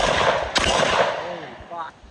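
Sharp gunshot bursts from a Springfield Armory XDM Elite 10mm pistol, a loud close report followed by a rapid crackling string of shots fading into echo.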